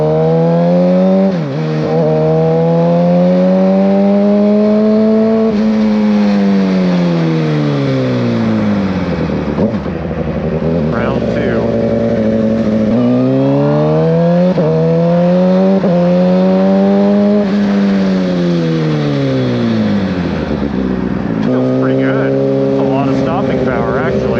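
Suzuki Gixxer motorcycle ridden to bed in new SBS dual carbon race brake pads, the engine loud and close, revving up through gears then dropping repeatedly in long rising and falling sweeps.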